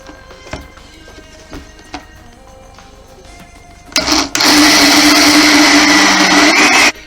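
An electric blender whirs loudly and steadily for about three seconds as it beats cheesecake filling, starting abruptly after a few soft kitchen knocks and clinks, then cutting off at the end.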